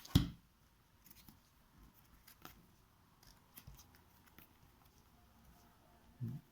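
Playing cards dealt three to each player at a tabletop card game: faint, scattered soft flicks and slides across a quiet room, with slightly stronger bursts at the start and end.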